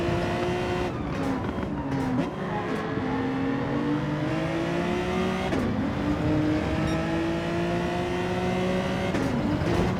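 Citroen super touring race car in Gran Turismo 7, its engine droning loud and steady with repeated rising pitch sweeps as it accelerates through gear changes, no talk over it.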